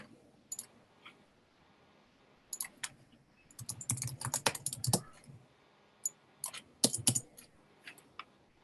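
Bursts of close computer keyboard typing, rapid clicky keystrokes clustered in short runs separated by quiet gaps, no voices.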